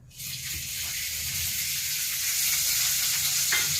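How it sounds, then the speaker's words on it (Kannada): Oil poured into a pan for frying chowlikai bajji starts an abrupt, steady, close sizzle that crackles continuously and grows slightly louder, with no talking. "ಇವಾಗ ನೋಡ್ರಿ ಎಣ್ಣೆ ಹಾಕ್ಲತ್ತೀನಿ ನಾನು"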